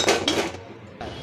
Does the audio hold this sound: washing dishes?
yes